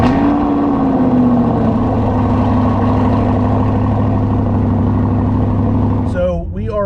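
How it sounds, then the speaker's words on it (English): A C8 Corvette with an AWE exhaust system idles at a cold start with a steady, loud low rumble and a faint higher tone that drops slightly, and a voice cuts in at the end. "let's grab a cold start of the beautiful AWE exhaust system"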